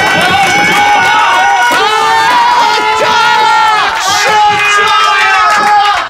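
A live audience cheers and shouts loudly, with high excited voices and whoops rising in waves over a constant crowd roar for about six seconds.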